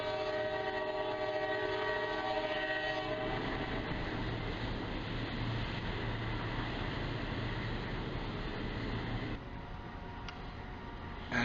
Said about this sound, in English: We see a freight train running along, going from Panama City to the Colon container terminal.